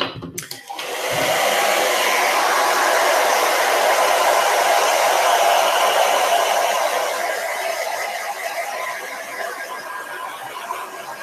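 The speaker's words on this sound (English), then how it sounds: "I'm going to dry this again because I can see this one's still wet." A handheld dryer blows on wet paint on a dot mandala painting, switching on abruptly and then holding a loud, steady whooshing roar that eases slightly toward the end.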